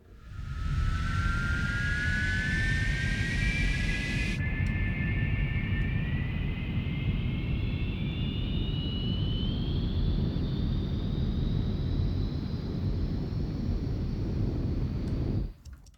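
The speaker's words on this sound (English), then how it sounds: "you have the layers, you have the thrust, some nice bass generated from the subharmonic generator" A sci-fi spaceship engine thrust effect: a steady, dense rumbling roar with subharmonic bass and a rising whine layered on top builds for several seconds, then cuts off sharply.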